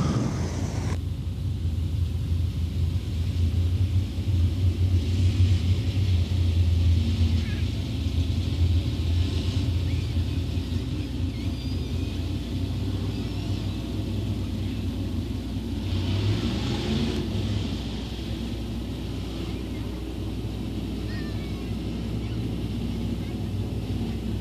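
Sportsman race cars rumble around Crossville Raceway in a steady, loud engine drone, with a faint voice of speech running under the noise throughout.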